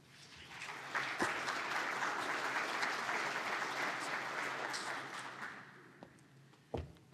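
An audience at a presentation on subdivision regulation applauds to welcome a speaker, steady clapping that swells quickly, holds for about five seconds, then tapers off, followed by a few faint bumps.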